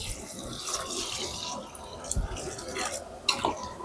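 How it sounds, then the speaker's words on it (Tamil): Water splashes into a large pot of mutton for a gravy, a steady, close pour with a few louder gushes and sloshes near the end. "இப்போ தண்ணி ஊத்திடலாம் மட்டன் வேகிற அளவுக்கு ஒரு லிட்டர் ஒன்றரை லிட்டர் அளவுக்கு தண்ணி ஊற்றிக்கலாம்"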